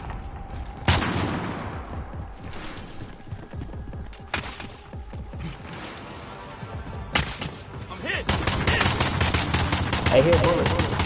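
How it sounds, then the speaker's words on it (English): Gunfire in Call of Duty Warzone: scattered loud single shots and short automatic bursts from near and far, ending in a dense sustained volley, with players talking over parts of it. "I hear bullets"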